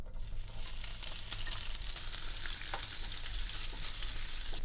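Onions sauteing in a hot pan for Indian restaurant-style mushroom masala give a steady, dense sizzle with scattered crackles and pops, close and continuous throughout, with no voices.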